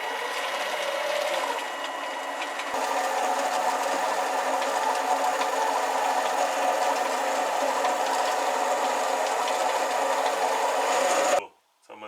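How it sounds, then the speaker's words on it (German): A mini lathe turns a step on a steel workpiece, a steady close mechanical whir with a constant tone that holds for about eleven seconds before cutting off abruptly. "jetzt drehen wir langsam die Stufe ab"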